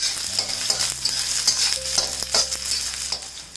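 Sliced onion stirred and sautéed in hot coconut oil with dried chillies over a high flame, a steady close sizzle and crackle with repeated spoon scrapes and clinks against the pan, no voices.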